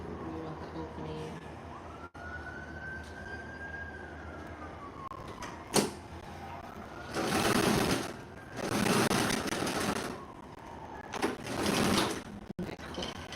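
A sewing machine stitching a bed pillow runs in several bursts of fast, buzzing needle rhythm, each a second or two long, close and fairly loud, with pauses and faint handling noise between runs.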